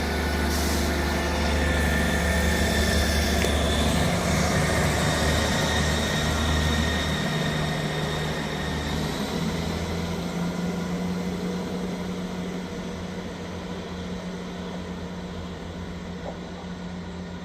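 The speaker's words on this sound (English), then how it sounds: "Departing out now is the 12:45 Scotrail service from Dundee to Edinburgh" The 12:45 Scotrail service from Dundee to Edinburgh Waverley departs Inverkeithing station with a steady, loud engine and wheel rumble that slowly fades as it pulls away, with no talking.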